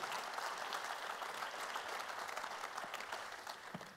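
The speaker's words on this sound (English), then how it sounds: "Can we give them a big round of applause to start off?" A conference audience at a leadership panel debate gives a dense, even round of applause that holds steady throughout and sounds somewhat distant and quiet.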